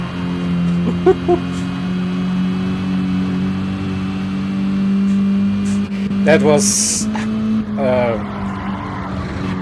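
Racing car engine in a sim racing game, a steady droning tone with a sharp rising rev and a quick burst mid-way, then another climbing rev; a commentator speaks briefly over it.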